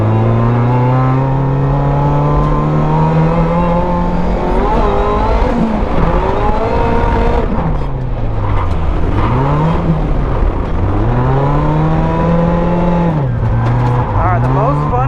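A Toyota AE86 on a night hot lap at a road-course drift event: a loud, close engine revs hard, its pitch repeatedly climbing and dropping as it accelerates and lifts, with no pause.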